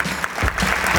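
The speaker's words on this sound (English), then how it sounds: "Let's give them a round of applause." A conference audience at a tech event's general session breaks into dense, loud applause for award recipients, continuous clapping filling the hall.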